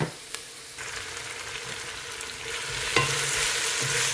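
Drumstick leaves sauté in a hot pan with a steady, close sizzle and occasional scraping stirs, with no talking.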